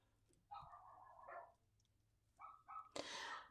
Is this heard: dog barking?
yes